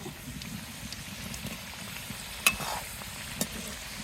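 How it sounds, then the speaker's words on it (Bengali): Cauliflower pieces frying in hot oil until reddish, a steady broadband sizzle and crackle close by, with a couple of sharper pops from spatter or a stirring utensil and no talk. "তেল গরম হয়ে গেছে, এবার তেলে দিয়ে লাল লাল করে ভেজে নেব।"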